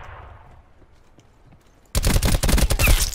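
In Call of Duty Black Ops 4 Blackout, faint, scattered pops give way to a sudden loud barrage of rapid gunfire that lasts the final second or so.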